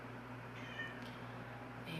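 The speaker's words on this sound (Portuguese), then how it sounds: "Minha gata tá chegando aqui para participar." A pet cat gives a soft, drawn-out meow indoors, moderately close, over a steady low electrical hum.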